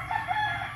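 A rooster crows once on a farm, a short, fairly loud call standing alone against faint background noise.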